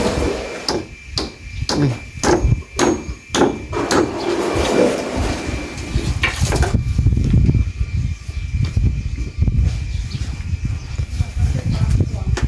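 Nails are hammered into timber on a house nearing completion at a building site, a run of sharp, evenly spaced strikes close by in the first few seconds, then a steady rumble of site noise and voices talking.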